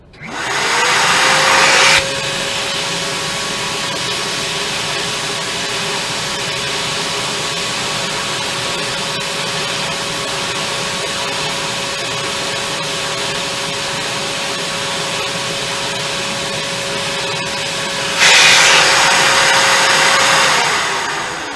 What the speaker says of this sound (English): And now I'll vacuum this off.